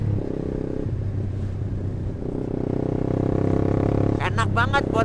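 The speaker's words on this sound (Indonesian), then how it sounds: "Yang gue rasain pakai knalpot Proliner ini suaranya empuk banget gitu ya cuy" A Yamaha R15V2 motorcycle fitted with a Proliner exhaust idles with a steady low rumble, then revs up in a short series of sharp throttle blips near the end.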